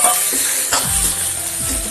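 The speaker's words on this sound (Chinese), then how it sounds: "锅里边少留一点点的底油，放入五花肉，五花肉炒色，咱们放入蒜子" Pork belly and garlic cloves stir-frying in a wok with a little oil, a steady close sizzle punctuated by scraping strokes of a spatula against the pan.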